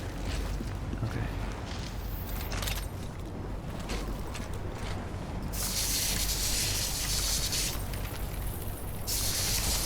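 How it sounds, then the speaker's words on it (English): Spray from a handheld sprayer in Death Stranding hisses in long bright bursts, the loudest stretch running through the second half over a steady, rumbling game background. "I was trying to press L to bring out the spray."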